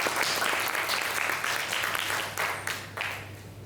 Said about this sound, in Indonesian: kita beri tepuk tangan sekali lagi.